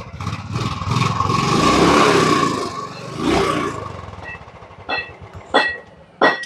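A Bullet motorcycle engine roars as it revs up and drops back twice, close and loud, before brief bursts of talk take over.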